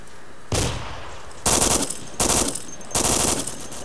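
Automatic gunfire from the Arma 2 video game comes in four short bursts spread over a few seconds, loud and sharp with brief pauses between them.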